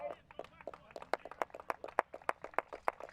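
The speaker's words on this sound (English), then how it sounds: "And listen to the applause for Matthew Crossan." Sparse, distant clapping from spectators at a Ukraine vs England cerebral palsy football match at the 2025 men's Euros marks a substitution, with individual claps ringing out faintly beneath a commentator's steady talk.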